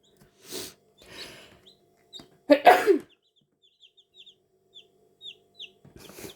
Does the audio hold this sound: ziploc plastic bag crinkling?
no